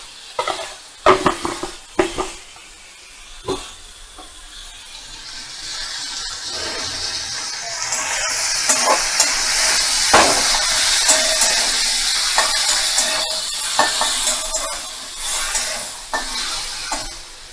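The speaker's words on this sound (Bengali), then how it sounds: "মিডিয়াম ফ্লেমে রেখে চিংড়ি মাছটা ভাজা ভাজা করে নিতে হবে।" Shrimp with a little turmeric and salt fry over a medium flame. A few sharp clatters of stirring in the pan come first, then a steady sizzle builds and holds, broken by occasional scrapes.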